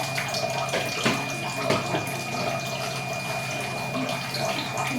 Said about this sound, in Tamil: நம்ம காய் வேகிறதுக்கு தண்ணி ஊற்றிக்கலாம்